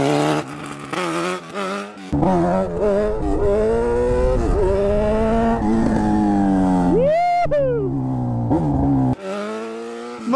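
A Honda CB1000 motorcycle revs hard and climbs through the gears while riding a wheelie, the engine note rising and falling loudly and up close before a sharp high rev and a brief cut.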